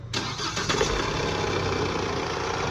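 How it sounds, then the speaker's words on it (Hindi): A Mahindra XUV300 diesel engine cranks briefly, fires, and settles into a steady, close, loud idle with no talking. "गाड़ी स्टार्ट कर।"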